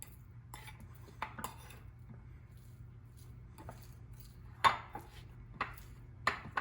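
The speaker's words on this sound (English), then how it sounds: "now I'm going to mash this butter and dill together." Butter and dill being mashed together with a metal utensil in a bowl, giving intermittent scraping clicks and soft squishes that come at irregular intervals over a low steady hum, with a few louder taps.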